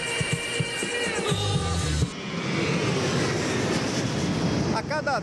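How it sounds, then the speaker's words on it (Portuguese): An airplane at Congonhas Airport roars steadily in the distance, with a brief chatter of voices at the start before the broad engine rumble takes over. "Só pra ver avião descendo, só pra ver avião"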